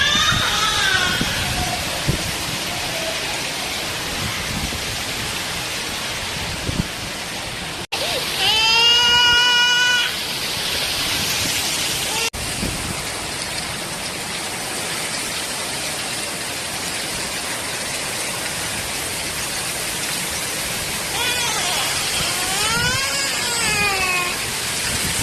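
Heavy rain in Chennai pours as a steady, loud wash throughout, with cool breeze and distant thunder mixed in, while a high wavering cry rises briefly twice and a voice speaks over it.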